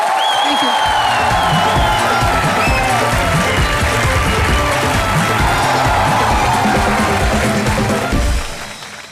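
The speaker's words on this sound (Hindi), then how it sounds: "इनके लिए जोरदार तालियां" A studio audience at the comedy show Comedy Nights With Kapil breaks into loud, sustained applause with whoops and cheers after a Navratri dandiya performance, forming a dense wall of clapping that trails off at the end.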